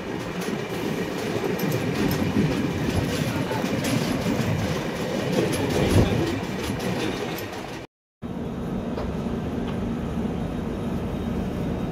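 A passenger train runs through hilly country between Mumbai and Pune, its steady loud rumble and wheel clatter filling the whole stretch, with a brief drop to near silence around the eighth second before the rolling noise resumes.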